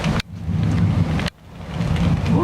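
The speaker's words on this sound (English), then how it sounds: "Might get the thunder in there." Loud, steady rain during a storm pours close by, with rumbling thunder rolling underneath and two abrupt cuts in the wash of noise.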